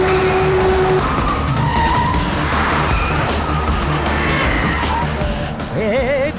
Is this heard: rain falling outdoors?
no